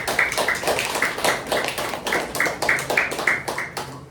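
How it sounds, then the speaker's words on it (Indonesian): A small classroom group claps for the winners of a student presentation, fairly faint, with distinct individual claps in an uneven rhythm rather than a full ovation. "Dikasih tepuk tangan dong untuk pemenang."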